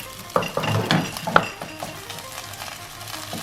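Pad Thai noodles with eggs being stirred in a hot pan: a few sharp utensil scrapes and clinks against the metal over a continuous close sizzle, the busiest strokes early and then settling into steady frying.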